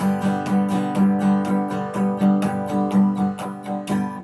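Steady rhythmic strumming on an acoustic guitar, strings brushed down with the fingers and up with the thumb, in brisk down-and-up strokes in a driving, even pattern, played alone and close.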